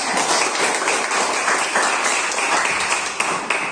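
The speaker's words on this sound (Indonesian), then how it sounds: "Kasih tepuk tangan." Classroom applause as students clap for a classmate, a dense, steady patter of many hands lasting several seconds, close and fairly loud with no talk over it.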